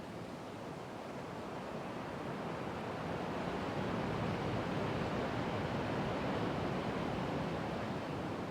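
Steady broadband roar of ocean waves and surf on Madeira, Portugal, continuous and fairly loud, swelling slightly partway through, with no voices.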